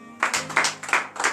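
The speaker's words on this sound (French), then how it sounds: "Donc je vous demande d'applaudir très fort." A congregation at a Monday morning prayer service in Benin claps hands in brief rhythmic bursts, close and fairly loud, a few strong pulses in quick succession.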